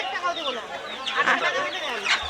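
Native chickens cluck and squawk close by at a busy market, mixed with people talking over them.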